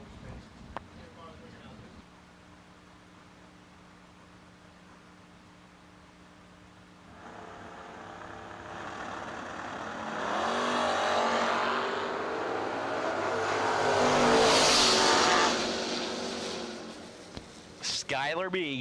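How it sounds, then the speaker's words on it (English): Drag race between a 1978 Malibu and a first-gen Camaro, with engines building from a low idle into a loud, rising roar that peaks and then fades. An announcer talks over it. "the 1978 Malibu, down 697. And Cameron Atkins out of Mentor, Ohio, first gen Camaro"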